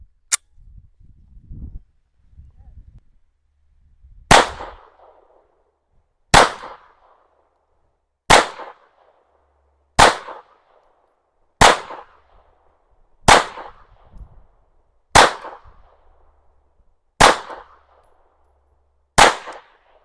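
An Anderson Kiger 9C pistol fires Federal Syntech 150 grain flat-point rounds at a range, nine loud sharp cracks at a steady pace about two seconds apart, with brief handling noise before the first shot.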